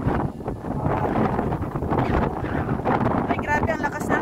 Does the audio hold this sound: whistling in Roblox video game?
no